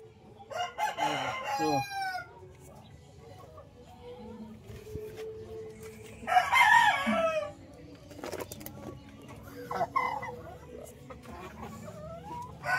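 Chickens cluck and a rooster crows several times outdoors, moderately close, with bursts of calling spread across the scene and people talking intermittently in the background.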